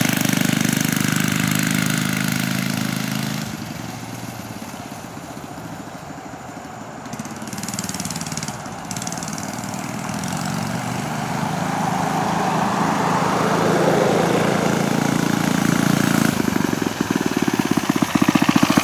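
A motorized scooter with a swapped engine revs hard during wheelies and burnouts, a loud, continuous, buzzing small-engine drone that dips and climbs in pitch, close throughout with no talk.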